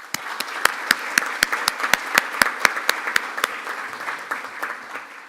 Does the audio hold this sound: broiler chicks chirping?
no